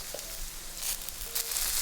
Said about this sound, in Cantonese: We'll stir fry until aromatic or about 15 to 20 seconds.